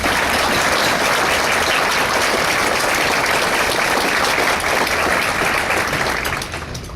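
Sustained applause from an audience at a sponsored fall event, thanking the sponsor, dense and steady for the full stretch before tapering slightly at the end.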